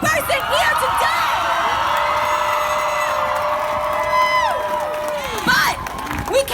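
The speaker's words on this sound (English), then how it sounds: "can I get a round of applause for every single person here today?" A large crowd at an outdoor youth climate strike rally cheers, whoops and yells loudly and continuously, with high children's voices prominent and a few claps mixed into the roar.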